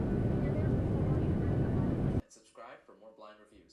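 Steady, loud airplane cabin roar plays as a headphone noise-cancelling test, a dense broadband rumble that cuts off abruptly, followed by a person talking.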